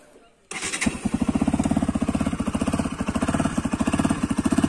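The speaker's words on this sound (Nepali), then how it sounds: "बाइक कोल्ड स्टार्ट गरौँ एकछिन" A motorcycle cold-starts after a brief quiet moment, then settles into a loud, close, rhythmic idle with evenly pulsing exhaust thumps that continue to the end.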